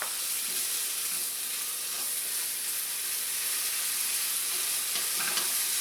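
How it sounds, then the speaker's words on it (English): Steak sizzles steadily in a hot pan, a bright, constant crackling hiss close by with small pops, and no one speaking. "Got a nice sizzle going there."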